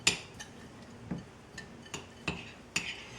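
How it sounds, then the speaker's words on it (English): Butter being stirred into a low-carb pecan nut pie crust mixture, a series of about seven separate utensil clicks and scrapes against the bowl, spaced roughly half a second apart, close and fairly soft. "And let's stir in our butter."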